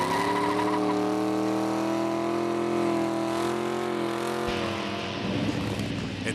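The Project X hot rod's engine, with uncorked headers, holds a loud, rich rev for several seconds, then drops off before a rougher burst of sound near the end.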